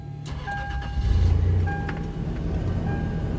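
A 30-year-old third-generation Toyota 4Runner with about 225,000 miles cranks briefly and catches, then settles into a steady, quiet idle. Faint electronic whines sit over the engine hum, with no talking.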